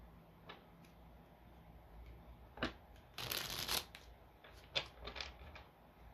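Tarot cards being shuffled during a reading, a soft riffling burst in the middle with scattered quiet card taps and clicks around it, faint and close, without talk.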